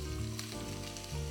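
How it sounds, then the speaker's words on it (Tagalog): White onions frying in butter and oil give a steady close sizzle with soft crackle, running continuously throughout without voices. "Let's cook the onions first."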